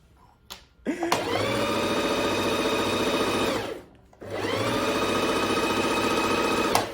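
A Bernette B05 Academy sewing and embroidery machine runs at high speed with no fabric, a fast whirring needle rattle that starts, runs for about three seconds, stops briefly, then starts again, close and loud with no talking.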